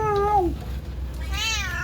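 Cats in a pet shop meow up close, with two distinct meows, one at the start and another near the end, loud and clear.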